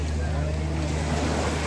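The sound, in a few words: rough sea waves splashing at fishing harbour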